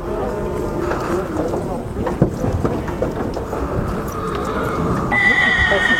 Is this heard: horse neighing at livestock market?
yes